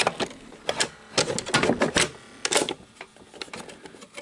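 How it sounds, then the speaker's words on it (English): The cassette carriage of a Sony SL-HF2100 Betamax VCR, which is having issues, ejects with a run of close mechanical clicks, whirs and clunks in irregular bursts, loud and with no talking. "when we go to eject it here, I'll have to help the cassette carriage out."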